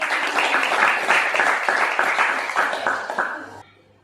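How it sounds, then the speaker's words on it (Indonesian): A classroom group claps together in warm, sustained applause that fades out near the end. "Oke, tepuk tangan dulu."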